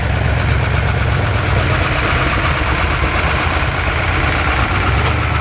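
An Oliver 88 diesel tractor runs steadily at a show, its low, throbbing engine drone constant and loud throughout with no talk.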